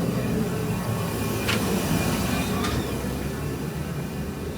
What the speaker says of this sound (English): Excuse the noise. Got the heat on.